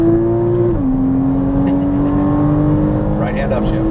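Porsche Cayman S engine pulling hard under acceleration, its steady drone dipping briefly as a right-hand upshift lands, then climbing again; loud and close throughout, with a voice talking over it.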